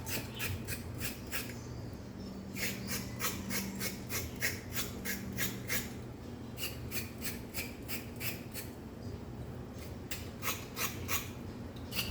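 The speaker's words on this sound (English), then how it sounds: "you use your knife to scrape it" A knife scraping a vegetable in rapid, even rasping strokes, grouped in bursts with short pauses, close and quiet against a low background hum.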